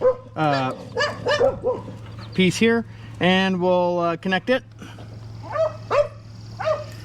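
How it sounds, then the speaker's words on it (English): Excited dogs barking in a home as someone arrives, several sharp yips and barks breaking out in quick bursts over a man's nearby speech and a steady low hum from an air compressor. "My dogs are going crazy right now because my wife just got home."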